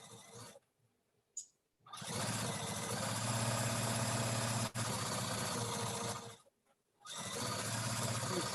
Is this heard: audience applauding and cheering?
no